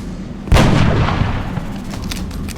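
Sniper rifle fire in XCOM Enemy Within: one sharp, loud shot cracks out with a booming report that decays slowly into a lingering echo, with lighter clicks trailing afterward.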